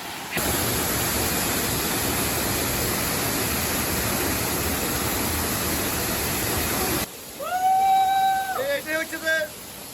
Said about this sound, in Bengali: এটা হচ্ছে মুক্তি ঝর্ণা দুপাশে চোখ আছে মতো এটা হচ্ছে মুক্তি ঝর্ণা